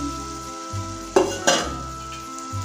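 Fried potatoes are turned into simmering masala in a pan, giving a soft steady sizzle with two sharp metallic scrapes of the spoon in quick succession, close by and with no talking.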